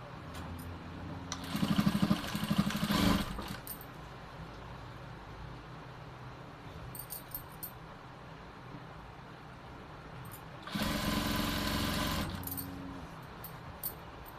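A domestic sewing machine stitches a fabric collar in two short bursts a few seconds long, separated by a quiet stretch of room noise.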